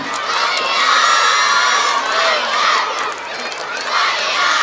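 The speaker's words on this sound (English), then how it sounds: "Finally, the fans cheering for Warrior Knights." A loud crowd of fans, many of them children, cheers and shouts steadily at the final of a children's football tournament, in sustained swelling waves with no pause.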